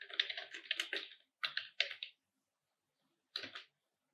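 Typing on a computer keyboard, soft close clicks in quick clusters, a longer run of keystrokes and then a few short bursts separated by silence.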